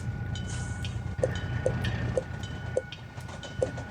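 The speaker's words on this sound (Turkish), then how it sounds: "Trenimiz geçiyor." A train passes in the Truck Simulator Ultimate game, a steady low rumble with faint periodic clacks of wheels over rail joints, fairly quiet and continuous throughout.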